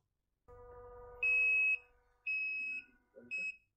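Three high electronic beeps from a Tamiya Arocs 4151 8x8 RC truck sound module's reversing signal, two long and one shorter, clear and close, preceded by a low mechanical hum.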